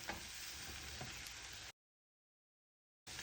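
An egg fries in a skillet for a one-egg, one-potato breakfast, giving a steady close hiss and sizzle with faint ticks, then cutting to silence.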